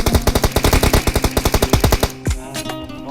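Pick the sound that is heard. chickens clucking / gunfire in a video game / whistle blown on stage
gunfire in a video game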